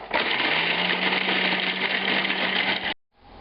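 Food processor chopping bread with a ground spice mixture for Swedish meatballs, a steady loud whirring drone with a faint motor hum that runs for about three seconds, cuts off sharply, then resumes quietly.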